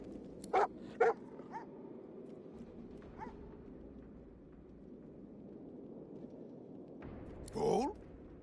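Hellhounds bark in Divinity: Original Sin 2, with several short, sharp barks early on, a single faint bark a few seconds later, and then one louder, longer howling bark near the end over a low ambient hum.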